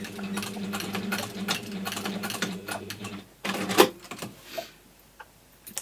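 A sewing machine runs in a fast, steady whirring burst while stitching PU trim on a case, then stops, leaving a few faint handling clicks.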